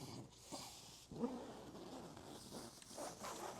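The zipper on a OneTigris Coco Nest solo hot tent is worked in short, quiet pulls, a few scratchy zips with brief pauses between them in a still setting.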